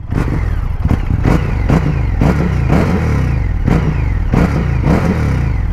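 A 2021 Indian FTR 1200 R Carbon motorcycle engine revs hard and close, with repeated loud throttle blips over a rough, throbbing idle.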